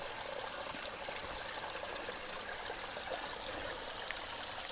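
Fresh mountain stream water in the Scottish hills pours steadily into a bottle, a faint, continuous rushing trickle heard close up with no voices.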